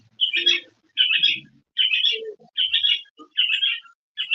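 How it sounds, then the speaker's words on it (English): A bird chirps in a steady repeating pattern, six bright two-part squeaky calls spaced about half a second apart, close and clear with faint low sounds between them. "What bird is that?"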